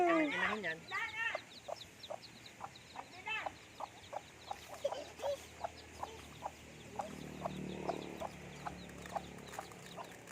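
Chicks peep in high chirps at the start, then a hen gives a steady series of soft, evenly spaced clucks, close but fairly quiet.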